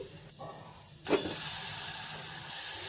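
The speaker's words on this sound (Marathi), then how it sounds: "थोडंसं तूप याच्यात शिल्लक आहे त्याच्यात आपण हे खोबरं आणि गूळ घालून घेऊ" Grated coconut and jaggery tipped into leftover ghee in a pan set off a sudden hissing sizzle that settles into a steady, fairly quiet bubbling hiss.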